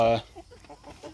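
Cornish cross and Freedom Ranger meat chickens on a pasture farm give a short loud squawk, then a few soft clucks trail off close by.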